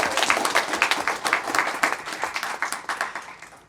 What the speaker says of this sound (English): So can we get another round of applause for these three individuals?